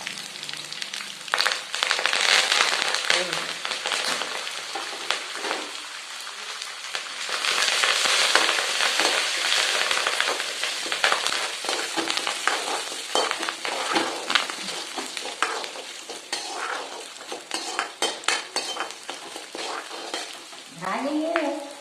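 Curry leaves dropped into hot oil while cooking spicy finger millet (ragi) flour, a loud, crackling sizzle that rises in bursts and then settles into steady frying, with occasional stirring scrapes and a brief voice near the end.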